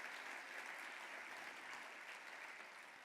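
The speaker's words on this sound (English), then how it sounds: "We can give her a round of applause." An audience at a women's program event gives a steady, even round of applause, distant and fairly faint, sustained throughout without speech.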